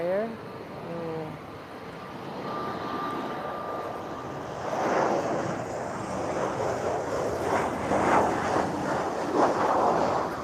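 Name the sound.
Embraer jet landing at Lisbon Airport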